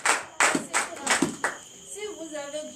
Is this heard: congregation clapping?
yes